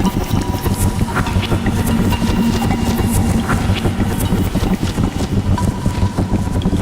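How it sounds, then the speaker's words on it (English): Pod racer engine sounds play in reverse from a cassette tape loop, a dense, steady, roaring whir with fluttering texture and faint clicks, loud and continuous throughout. "That's definitely idling racers of some sort."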